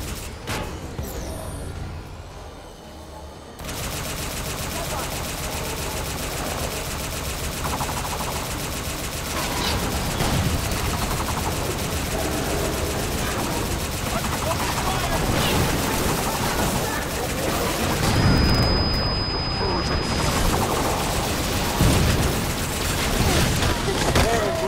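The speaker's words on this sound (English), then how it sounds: "Target fire on that grav core." Sustained gunfire and blasts rage in Halo 5 as a Covenant gravitational core is shot and destroyed, a dense, loud barrage with occasional game voices over it.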